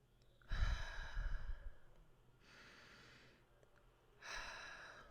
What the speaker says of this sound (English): I want you to take 2 to 3 deep breaths